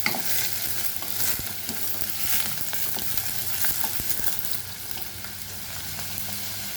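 Chopped onion sizzling and frying in a pan for a Goan lemon fish curry, a steady close crackle with scraping stirs throughout.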